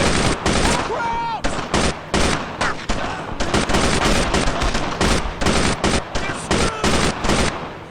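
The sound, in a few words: machine gun fire in video game Brothers In Arms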